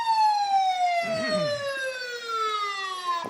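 Ambulance siren at a parade, a loud, close electronic wail that holds a steady tone and slowly drops in pitch throughout, with a brief low vehicle rumble underneath.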